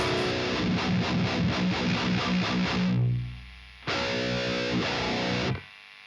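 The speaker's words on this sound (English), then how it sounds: "As well as some added distortion, of course." Distorted electric guitar through a Deadweald Audio Engineering Duality Drive pedal, chugging a rhythmic palm-muted riff, then ringing out and sustaining a crunchy, saturated chord before cutting off.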